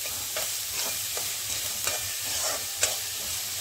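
Chopped onion sautéing in oil with salt as the base for a prawn masala, a steady sizzle broken by repeated scraping stirs of the spoon in the pan, close and continuous with no voices.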